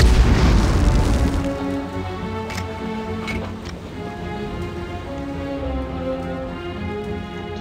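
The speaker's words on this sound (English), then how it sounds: "Grenade." A grenade blows up in the 1999 video game Medal of Honor: a loud booming blast at the start that decays into a rumbling, crackling tail, with layered game sounds continuing beneath.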